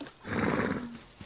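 A zebra in the zoo-building game Planet Zoo gives a short horse-like whinny, a single rising and falling call lasting about a second, fairly close and clear.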